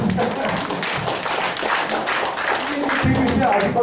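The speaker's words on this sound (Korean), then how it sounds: "박수" An audience claps at a talk in Korea, with dense, steady applause that holds at a fairly loud level for several seconds and swells slightly near the end.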